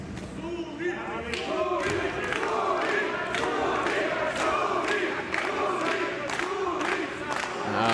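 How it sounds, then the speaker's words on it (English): A crowd at a USC Soviet Wings MMA fight in Moscow chants in rhythmic, repeated bursts, loud and sustained, rallying behind a fighter, with distant voices mixed in. "The chants from the crowd here at the USC Soviet Wings in Moscow, rallying behind Zuzia"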